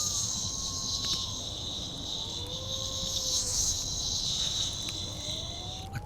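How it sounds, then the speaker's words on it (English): Cicadas thrum in summer heat, a steady high-pitched buzzing drone that holds throughout, with faint chirps and calls in the background. "The air is filled with the sound of cicadas."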